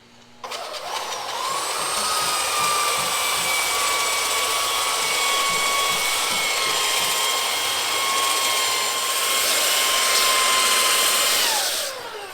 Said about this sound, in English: Now this is what the wood looks like after the belt sander, and the belt sander does a pretty good job